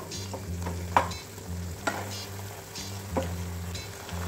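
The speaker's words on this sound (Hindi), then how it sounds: "अब इसमें डालते हैं मैगी और इसको बॉईल होने के लिए छोड़ देते हैं" Maggi noodles with sweet corn cook in a pan over a medium flame, giving a steady close sizzle and bubbling with a few sharp spoon scrapes and clinks against the metal.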